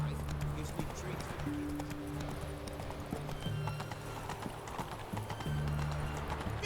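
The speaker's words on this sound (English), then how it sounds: "Whoa there, Roach" Hooves of Roach, a horse in The Witcher 3 video game, clip-clop steadily along under game music and ambience, with a character's voice talking over the hoofbeats.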